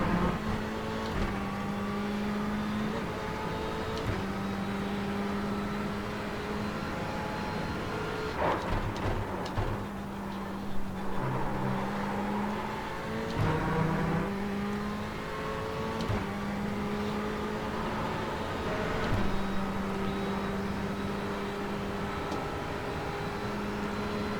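Ferrari race car engine in the iRacing sim, a steady high-pitched drone with rising and falling revs and gear shifts, loud and continuous with no talk.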